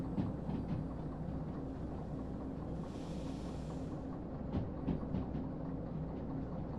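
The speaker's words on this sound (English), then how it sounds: "And it's gonna go slide downhill. I think we could just like use the train brakes to like just slow down a bit." A train in the Derail Valley game rolls downhill with a steady low rumble and faint rhythmic clacks of the wheels on the rails. It runs at an even level throughout, and no one talks.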